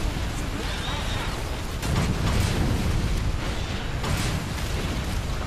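Bombs explode in the Toy Soldiers War Chest video game as a continuous rumbling barrage of dense booms and bursts, swelling louder midway.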